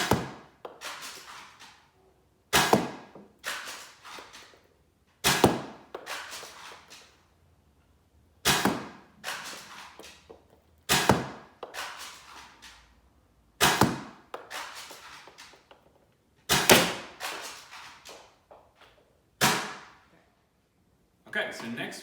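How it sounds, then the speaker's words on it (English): Black Worker Gen 2 foam darts fired from a Nexus Pro blaster, nine sharp shots spaced a few seconds apart, each a crisp pop with a short decaying tail, close and loud. "This is firing the black Worker Gen 2s out of the same Nexus Pro."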